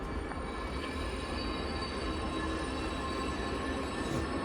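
A train at Stoke-on-Trent station rumbles steadily nearby, with rolling wheel noise and faint high squeals from the rails throughout.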